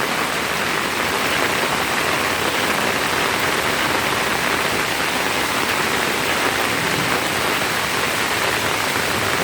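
Heavy rain falls in an unbroken, even hiss, loud and close throughout with no breaks.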